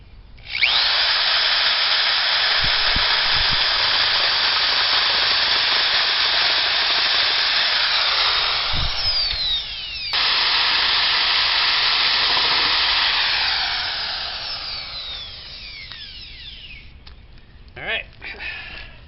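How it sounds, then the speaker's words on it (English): Power drill bores into wooden boards for a swing-set rebuild, a long loud steady whine that cuts off briefly, resumes, then winds down and stops, followed by a few light clunks. "And so let's get drilling."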